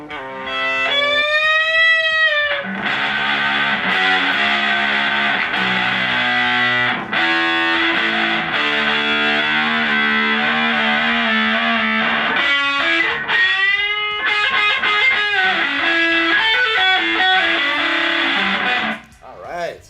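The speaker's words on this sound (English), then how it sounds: "I feel like there's that like kind of vintagey distortion sort of sound to it." Distorted electric guitar plays gritty, saturated chords and melodic runs continuously, fuzzy and loud throughout.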